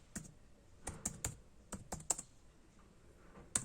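Keystrokes on a computer keyboard as a command is typed, a handful of sharp, close clicks in an irregular rhythm with short pauses, no voices.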